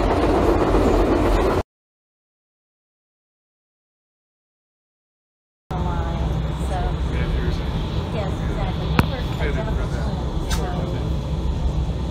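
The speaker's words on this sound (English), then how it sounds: "We're on the McKinley Express, heading all the way from Anchorage to Denali Park." Steady low rumble of the McKinley Express passenger train rolling along rails in Alaska, with a full silent gap in the middle and voices talking over it.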